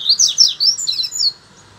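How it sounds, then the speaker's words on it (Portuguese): A double-collared seedeater sings a quick, bright run of chirping phrases, loud and close, then stops. "Um canto atrás do outro, doido coleirinho."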